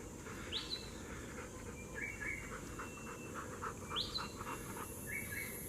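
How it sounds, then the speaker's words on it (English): Crested guinea fowl calling outdoors at the St Lucia Estuary, a few faint short chirps and rattling notes over a low background rumble. "Guinea fowls, crested guinea fowls"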